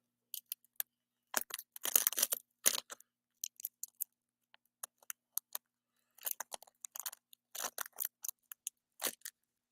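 A package being opened during an unboxing: scattered crinkling, tearing and snipping noises in irregular bursts, close and fairly quiet, with no talking.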